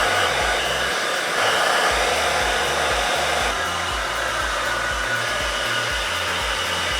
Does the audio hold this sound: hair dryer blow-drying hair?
yes